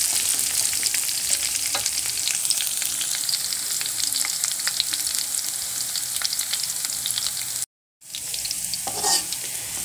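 Chilies fry and sizzle steadily in a hot pan for a home-style stir-fry, with occasional stirring scrapes over a constant crackling hiss, briefly cut off near the end before the sizzle resumes.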